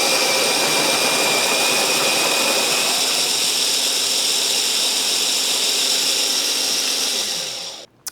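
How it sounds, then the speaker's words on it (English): An OXO conical burr grinder grinds coffee beans with a loud, steady whirring hum that runs for about seven seconds, then winds down and stops with a final click. "reasonably priced household burr grinder, not bad"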